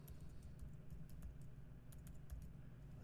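Steady computer keyboard typing while entering music code, a continuous run of quick, close key clicks with no talk over it.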